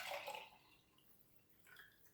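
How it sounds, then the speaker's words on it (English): Lemon elixir is poured from a container into a wide-mouth glass mason jar, giving a brief, quiet burst of splashing liquid at the start that thins to a faint trickle and a few soft drips. "This doesn't need a funnel, so I'm just going to pour"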